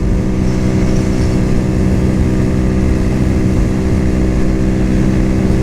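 A Cougar Vitacci XMT 250 motorcycle cruising at about half throttle in 5th gear in the mid-60s, its engine giving a loud, steady, even drone with constant tone and no gear changes, heard alone without talk.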